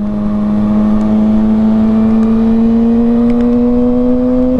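A Kawasaki motorcycle engine revs loud and close, its pitch climbing smoothly and steadily through a gear as it pulls toward high RPM, with no voices over it.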